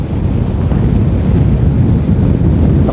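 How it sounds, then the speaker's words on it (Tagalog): Strong wind buffets the microphone in a steady, loud low roar for the full stretch, while a vlogger travels near San Jose City, Nueva Ecija, and no one speaks. "Lakas ng hangin."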